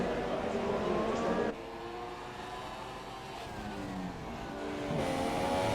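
Racing cars in a sim racing game roar and rev through corners, engine notes rising and falling as they pass, with a quieter stretch in the middle before the engines swell again.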